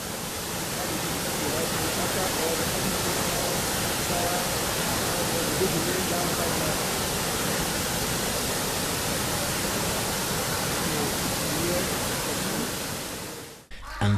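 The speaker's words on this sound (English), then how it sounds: "the sound of the 7 waterfalls, from which the name Abokim Waterfalls is derived" Abokim Waterfalls, a set of seven falls, roar in a steady, dense, unbroken rush that holds loud and even for the whole stretch before cutting off abruptly near the end.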